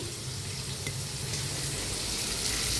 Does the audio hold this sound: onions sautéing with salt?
yes